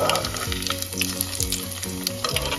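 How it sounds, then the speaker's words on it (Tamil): Cheese and capsicum stuffed potatoes deep frying in hot oil over a high flame, giving a steady dense sizzle and crackle, close and continuous, with no voices. "இப்போ இந்த ஸ்டஃப் அண்ட் பொட்டேட்டோவை ஹை ஃப்ளேமில் உள்ள ஆயிலில் போட்டு நம்ம டீப் ஃப்ரை பண்ணி எடுத்துக்கலாம்"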